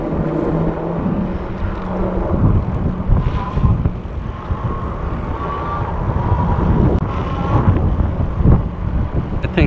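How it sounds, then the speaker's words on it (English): A small drone drones steadily overhead for nearly ten seconds, a continuous buzzing engine tone mixed with wind buffeting the microphone along a coastal bay bike trail in Crystal River. "My pet drone"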